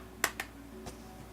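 Two quick, sharp hand claps ring out indoors to shoo a cat, followed by a fainter third tap against a quiet background hum.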